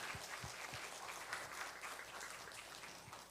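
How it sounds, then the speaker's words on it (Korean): A congregation claps during a Sunday worship service in a church, a steady, moderately dense round of applause heard at a distance and fairly quiet. "박수 한번 쳐드리세요"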